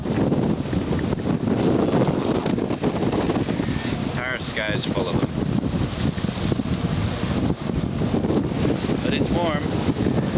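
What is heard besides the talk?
wind at sea on a motoring sailboat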